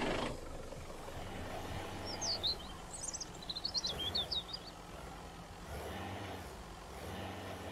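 A vehicle driven in the video game Mist Survival, a low steady engine rumble throughout, with bright chirping birdsong rising above it for a couple of seconds in the middle.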